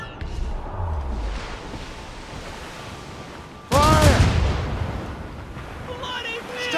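Ship cannons firing in the video game Assassin's Creed Rogue, a sudden loud booming blast midway that rumbles and fades, set against ocean and ship ambience, with a shouted voice around it.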